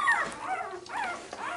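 Newborn puppies from a fresh litter of eight whimper close by in a quick run of thin, high, wavering cries, several overlapping whines across under two seconds.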